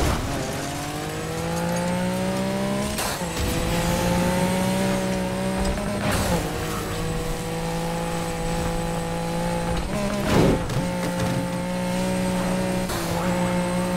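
A Lamborghini Diablo in the racing game Need for Speed Heat roars loud and close, engine tone climbing through gears with sharp shift drops and brief tire squeals, no talking.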